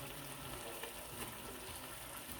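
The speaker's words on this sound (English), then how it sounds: "I'm going to add the bone broth." Bone broth from a 32-ounce container poured into a pan of cod for coconut soup, giving a steady close wash of liquid pouring and light sizzling that runs unbroken throughout.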